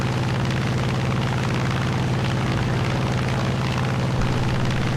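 Steady, loud drone of a P-47D-28 fighter's big radial piston engine in War Thunder, a dense continuous roar with a strong low throbbing pulse throughout, no speech.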